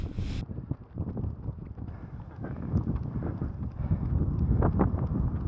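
Wind gusts roar and buffet the microphone during an outdoor 30 km road run in the rain, a continuous rushing noise close up that swells toward the end.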